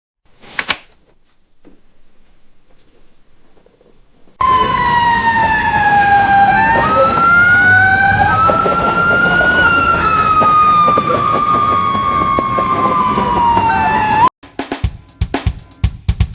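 A police siren wails loud and near in an AI-generated scene, its pitch sweeping slowly up and down for about ten seconds amid vehicle rumble, starting abruptly after quieter noise and ending with clattering sounds.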